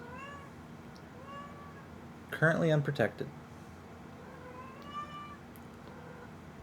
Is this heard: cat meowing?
yes